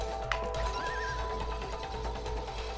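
A single horse whinny from a video game rises and falls over a steady game-like background hum, with faint clopping beneath; moderately loud and alone, no talking.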